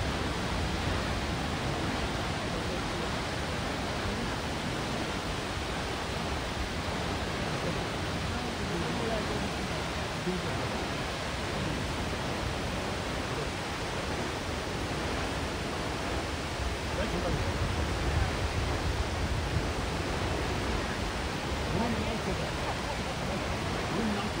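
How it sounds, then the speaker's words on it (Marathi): Thoseghar waterfall near Satara, a tall cascade about 350 metres high, heard from close by as a continuous, even broadband roar of falling water that never lets up, with a voice speaking over it. "आपण गॅलरीतून पाहिलेला हा धबधबा आता आपण वेगळ्या अँगलमधनं जवळून पाहत आहोत"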